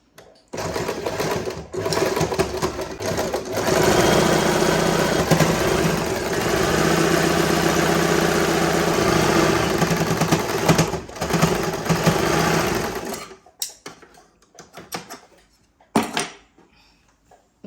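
A sewing machine stitches a saree blouse with a loud, steady whir for about twelve seconds. It then stops, followed by a few scattered handling clicks and taps.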